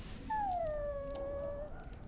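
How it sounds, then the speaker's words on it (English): A dog whimpers in the video game Dragon Age: Origins, giving one long, thin, falling whine over a low background hum, fairly quiet and with no talking. "Oh, I bet that dog led those rats into there to begin with."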